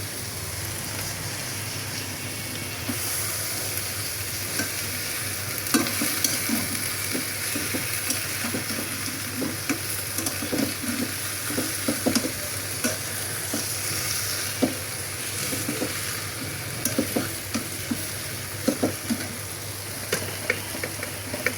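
Chopped malabar spinach and bottle gourd greens sizzle steadily in a pan while being stir-fried, a constant frying hiss broken by frequent scraping and clinking stirs, close and without talk.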